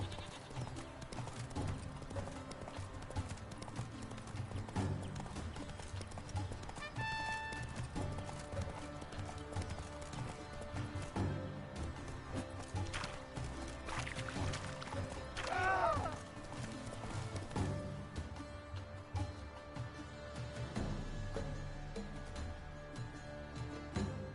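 Roach the horse galloping in The Witcher 3, with steady, rapid hoofbeats drumming under continuous game music and ambience, plus a brief whinny partway through.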